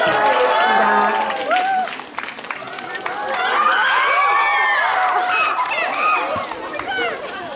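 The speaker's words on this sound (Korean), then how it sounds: "뜨거운 박수 부탁드리겠습니다" An audience at a film live talk event in a Gangnam cinema claps and cheers, with excited shouts and chatter from the crowd rising and falling over the clapping.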